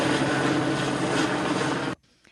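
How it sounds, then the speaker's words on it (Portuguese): A helicopter flies over a police manhunt for escaped prisoners near a highway and cane fields, a loud steady rotor and engine roar that cuts off abruptly near the end. "helicóptero."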